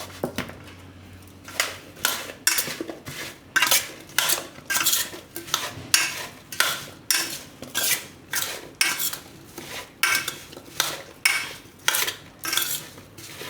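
Spoon stirring salt and turmeric through raw mango pieces in a bowl for sweet Gujarati pickle, a steady rhythmic scraping and clinking repeated about twice a second, close and clear with no talk.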